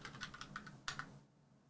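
Quick bursts of keystrokes on a computer keyboard, a rapid clicking run followed by a few final taps, then quiet; close and fairly soft with no voices.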